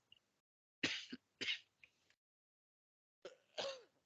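A man gives a few sharp coughs in quick succession, close and fairly loud, with short gaps of near silence between the bursts.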